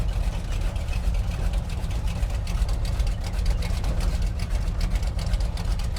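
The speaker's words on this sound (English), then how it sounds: "So the exhaust pulses say she's a little rowdy." A motorhome 454 V8 engine rumbles steadily under load while driving a bumpy dirt road, its rowdy exhaust pulses forming a continuous loud low drone with rattling texture throughout.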